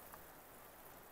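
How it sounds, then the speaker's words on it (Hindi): Rain falls steadily in Kullu-Manali as a continuous, even hiss of drops hitting surfaces, soft and diffuse with no voices over it. "देख बढ़ गई बारिश। बढ़ गई सही।"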